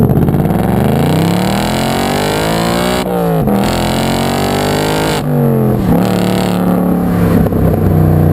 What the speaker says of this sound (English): Oh man, it rips in those upper RPMs.